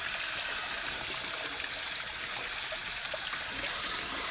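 Water gushes and hisses steadily from the drain of an Airstream's Hott Rod water heater as the tank is flushed with vinegar, a continuous close splashing stream with no talk.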